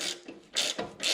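Ratchet wrench tightening bolts while installing a BIC Trikes rear end on a 2019 Harley-Davidson Road King, three quick bursts of close metallic clicking in a short run, no voice.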